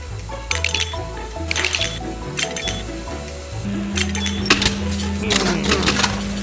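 Glass bottles bob on water and knock together with bright, repeated clinks as they are pushed up and tumble into a mill machine in a toy water-wheel trash system, over steady music.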